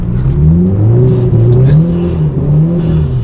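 A Subaru Impreza WRX STI engine droning loudly on an ice track, heard close and continuous, with pitch rising and falling as the throttle is worked through a corner.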